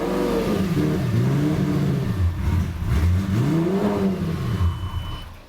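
A cheap Lamborghini with a rough-running engine that tends to die, revved with a little gas: loud, close engine rising and falling in two swelling sweeps, uneven and labouring, with no talk.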